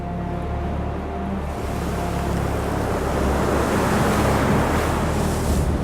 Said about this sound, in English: the 20th day at sea heralds its arrival with a howling gale